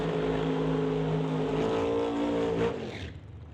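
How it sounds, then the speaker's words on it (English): Two drag racing doorslammer cars from the Canada West Doorslammer field doing side-by-side smoky burnouts, a loud, close, high-revving engine roar that holds steady, then cuts off abruptly near the end. "Side-by-side smoky burnouts for two of the higher qualified cars here in the Canada West Doorslammer field."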